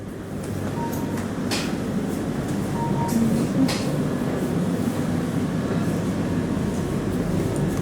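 A Melbourne HCMT high capacity suburban train runs on the line from Flinders Street toward Dandenong, its steady low rumble filling the cabin with faint rail clicks and brief higher bursts.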